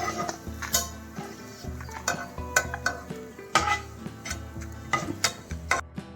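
Curry leaves frying in oil in a pan: sharp metallic clinks and scrapes of a spatula against the pan at an uneven pace, over a faint sizzle, close by and without talk.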